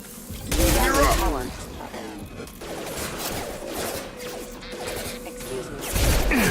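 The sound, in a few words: gunfire in the video game Mass Effect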